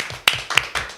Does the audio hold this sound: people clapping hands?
yes